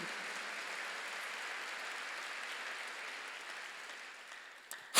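A church congregation claps together in steady, sustained applause that holds at an even level for several seconds before tapering off slightly at the end.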